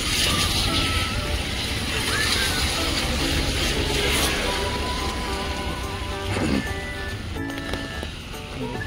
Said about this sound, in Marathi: जोरदार पाऊस चालू झालाय